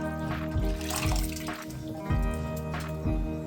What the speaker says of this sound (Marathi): हे जे डाळीचं शिजलेलं पाणी ना हे टाकते यामध्येच